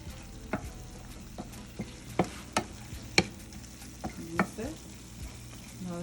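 Jamaican ackee frying in grease in a pan, a low steady sizzle broken by several sharp clacks and scrapes of a stirring utensil against the pan, close by and with no voices.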